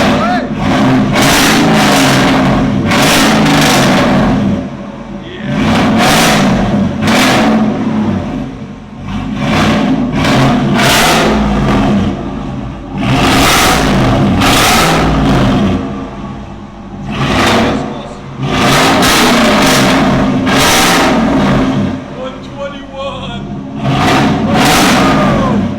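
A 2013 Chevy Silverado with a 6.0L V8 and a NETAMI NTR racing muffler revs repeatedly, loud close bursts rising and falling in quick succession, with people talking over some of the pulls.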